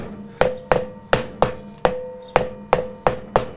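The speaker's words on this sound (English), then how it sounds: "Better to use a rubber mallet here, or a soft impact mallet." Ten evenly spaced hard taps of a rubber mallet on a ringing metal front brake drum of a classic Fiat 500, each strike followed by a brief metallic resonance, close and fairly loud.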